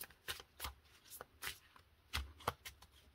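Oracle cards being shuffled by hand in a quiet room, with a series of soft, papery riffles and slaps in an uneven rhythm, close and fairly faint, with no talking.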